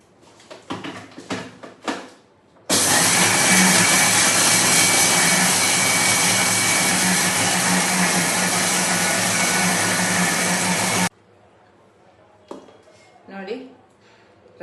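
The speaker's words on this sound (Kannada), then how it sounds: "ಇವಾಗ ಗ್ರೈಂಡ್ ಮಾಡ್ಕೋತೀನಿ." An electric mixer grinder runs loud and steady for about eight seconds, grinding roasted toor dal, fenugreek seeds and black peppercorns into rasam powder, with brief rattles and quiet talk before and after.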